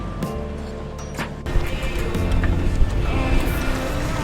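Sea waves wash against a sailing boat in breezy Greek waters, a broad rushing swash after an initial gusty patch of wind noise, moderately loud and continuous.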